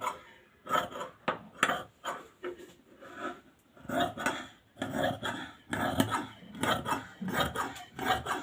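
Scissors snip through lining fabric in quick, close, irregular bursts of crisp cutting, separated by short pauses.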